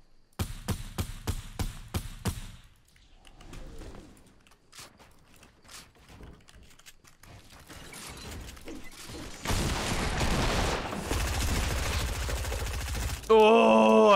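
Gunfire in Fortnite: a rapid opening burst of about eight close shots, scattered single shots and clatter after, then a dense, sustained barrage of fire toward the end.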